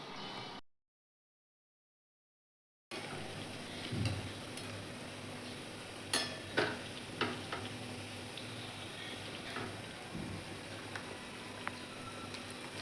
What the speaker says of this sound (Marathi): सर्व नाश्ता सोडून घेणार आहे मी तेलात, बघू शकतात. आता पलटवून घेऊ आपण.